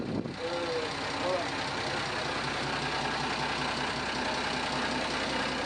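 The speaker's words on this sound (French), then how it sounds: "Nous avons là un DAF 575 diesel à refroidissement indirect de 105 chevaux." A DAF 575 diesel, an indirectly cooled 105-horsepower engine in a 42ft Dutch steel motor cruiser, idles just after starting, giving a steady, even rumble that stays close and constant throughout.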